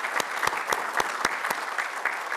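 Conference audience at a plenary session applauds after a professor's talk, a short steady round of clapping heard on its own without talk.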